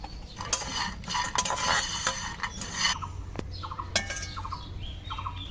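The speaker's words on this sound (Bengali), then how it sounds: "আমি এখানে কাঁকড়া একটু হলুদ লবণ দিয়ে মেখে নেব।" Raw crab being mixed by hand with salt and turmeric in a bowl, close clinks and scrapes against the bowl with wet squelching, then lighter taps alongside faint bird chirps in the background.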